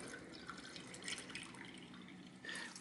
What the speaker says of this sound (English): And then I add in here water.